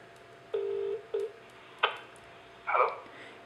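Xiaomi MI3 smartphone placing a call on speakerphone, with a few electronic tones: two short beeps, a click, then a brief chirping ring tone, close and clear in a quiet room.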